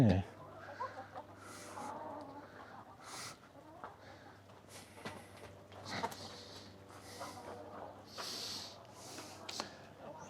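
Hens cluck and murmur throughout a henhouse holding about forty-three birds, in scattered, fairly faint calls under a low steady hum, with occasional soft human speech.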